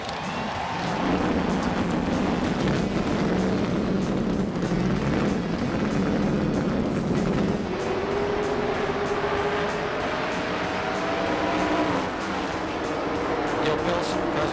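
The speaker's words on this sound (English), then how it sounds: "Gentlemen, start your engines." Stock car engines fire up for the start of the 1989 Daytona 500, a loud, steady, rumbling roar of many motors that holds throughout and shifts in pitch partway through.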